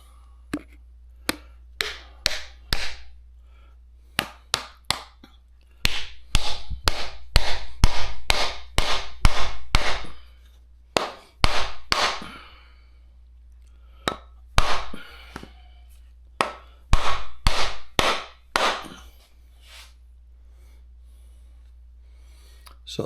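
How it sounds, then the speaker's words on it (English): An old rawhide mallet drives a wooden wedge into the top of a bushcraft axe haft, giving close, sharp knocks in uneven bursts of rapid strikes with short pauses between them. "I'm just going to drive it in with this old rawhide mallet"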